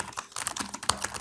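Quick, uneven keystrokes clatter on a computer keyboard, a close and fairly loud run of taps with no voices.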